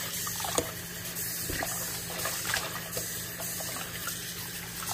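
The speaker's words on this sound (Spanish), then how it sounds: "Aquí yo estoy lavando mi arroz" Rice being rinsed in water in a kitchen, likely at a sink, for Dominican-style rice pudding: a steady running-water wash with small splashes and knocks, fairly close, with no talk.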